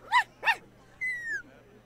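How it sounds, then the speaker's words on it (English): Puppies in the Minecraft Story Mode video game give two quick yaps close together, then a drawn-out high whimper that slides downward, over a faint low hum. "Got some fine puppies here."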